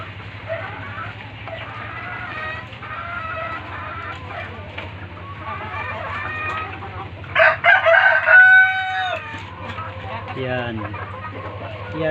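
A six-month-old Pama IQ cross Shamo rooster crows once from inside its backyard cage, a loud wavering call late in the stretch, while someone talks steadily over a constant low hum and softer clucks.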